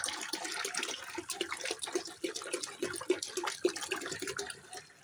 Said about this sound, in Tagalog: magdadagdag ulit tayo ng tubig dahil kulang pa po yan